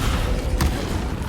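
A Descendo spell slams down in Hogwarts Legacy on PS5, a single heavy thud over a dense low rumble.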